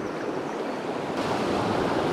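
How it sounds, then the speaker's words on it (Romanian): Steady, full rush of river rapids in the Apuseni Mountains, continuous broadband water noise that swells slightly partway through, with no voices. "Toată apa e un repediș"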